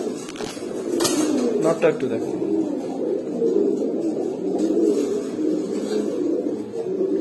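Pigeons of pankhi, grizzle and Baghdadi homer breeds coo in a loft for sale, their low burbling steady under a man's close conversational speech.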